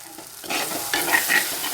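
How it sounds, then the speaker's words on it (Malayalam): Curry leaves drop into onions frying in hot oil for an egg curry, setting off a sudden loud sizzle with a spoon scraping and stirring close up. "ഇനി നമുക്കിതിലേക്ക് കുറച്ച് കറിവേപ്പിലയും കൂടി ഇട്ട് കൊടുക്കാം"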